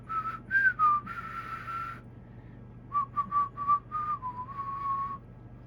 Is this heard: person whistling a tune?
yes